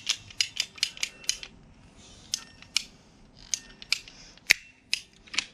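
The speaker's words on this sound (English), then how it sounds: "And then we'll still just use the pipe cutters." Pipe cutters snipping through a greenhouse frame pipe while a tarp cover is being secured: a series of sharp, close ratcheting clicks in quick bursts, pausing briefly before more crisp snaps.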